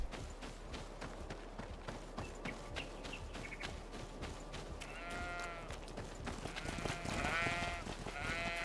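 Goats in the video game GreedFall bleat several times, a cluster of wavering, quavering cries in the latter half over a soft, busy background of hoof clatter and ambient game sound.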